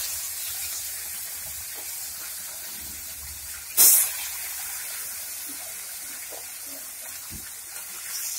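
Bata fish rubbed with turmeric and salt going into hot oil, a steady soft hiss of frying with one sudden loud burst of spitting sizzle partway through, then settling back to a quieter crackle.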